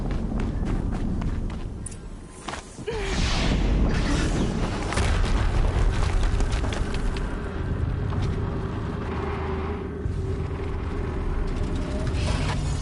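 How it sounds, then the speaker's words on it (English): Explosions rumble through a Horizon Zero Dawn game scene, a deep boom near the three-second mark followed by sustained loud roaring and crackling, with running footsteps mixed in. "Another explosion."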